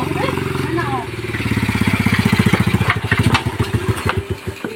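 A motorcycle engine idles, then revs in a fast, even putter that rises and loosens into uneven bursts toward the end, close and fairly loud, with people talking around it.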